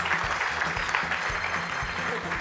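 Audience applause for a contestant at a sales lightning-round event, a steady wash of clapping with speech-like murmurs underneath, continuous and moderately loud throughout.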